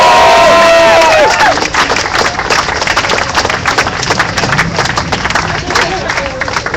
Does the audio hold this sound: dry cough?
no